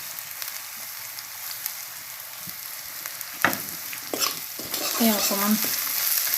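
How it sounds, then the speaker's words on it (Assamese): Spice powders fry in a hot pan while being stirred, giving a soft steady sizzle with sharp scraping clatters of the spoon toward the end; a voice briefly murmurs a few words. "তাৰপিছত মই মছলা গুড়িবিলাক দি দিলোঁ"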